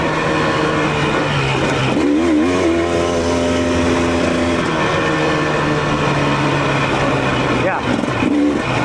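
A Husqvarna TE300 dirt bike engine on a break-in ride, droning and shifting pitch as it revs up and eases off, loud and close throughout.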